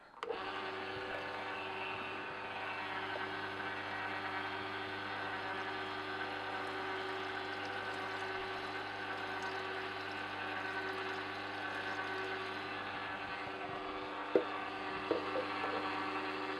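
A Sana Gastro EUJ-909 juicer runs with water poured through to clean it, a steady, loud motorized whir with liquid churning inside, a constant appliance hum with a couple of brief clicks near the end.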